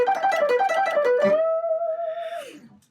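An electric guitar plays a common rock lick in a quick run of picked notes, then holds a bent, sustained note that slides down at the end, loud and up close.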